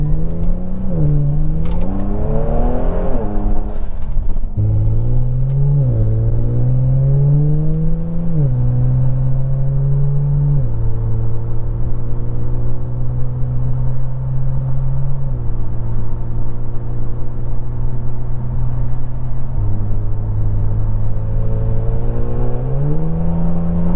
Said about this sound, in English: this should give you a great idea of what the exhaust sounds like inside the cabin